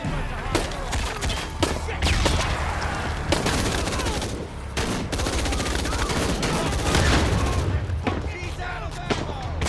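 Heavy turret gunfire in Shadow of the Tomb Raider, continuous loud bursts of rapid shots with sharp booming impacts and chaotic battle noise, shouting voices faintly mixed underneath.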